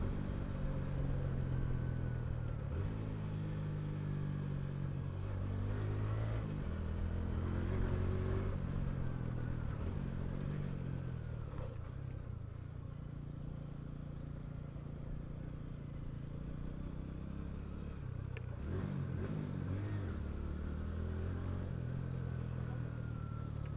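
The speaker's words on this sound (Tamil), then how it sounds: "ஒரு குட்டி ஸ்போர்ட்ஸ் பைக் மாதிரி தான் சவுண்டு, பீட்டு எல்லாமே." A TVS Radeon commuter motorcycle rides along with its small engine humming and revving through gear changes, a steady close drone that swells and dips with throttle, no talk over it.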